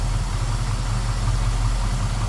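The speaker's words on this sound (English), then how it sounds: "Nice little rumble coming out of that small block." A small-block V8 engine in a 1941 Ford Deluxe Convertible street rod idles with a steady, deep rumble and a slight lope, close by and continuous, with no voices.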